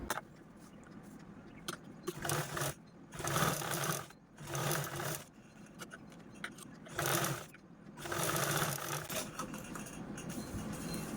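Sewing machine stitching a fabric pouch made from a single square of cloth, running in several loud bursts of rapid mechanical whirring separated by short pauses, with no talking.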